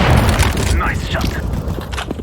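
Booming, crackling gunfire in a Counter-Strike: Global Offensive team deathmatch on the Tuscan map, loud and dense at first then fading into scattered pops, with a game voice talking over it.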